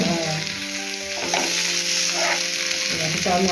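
Rava-coated surmai fish shallow-frying in a pan of oil, a close, steady sizzle that crackles and flares briefly as pieces are flipped, with no voice over it.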